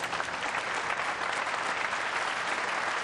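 A crowd at a 2004 WPC professional pool match applauds a made shot, dense continuous clapping filling the hall throughout.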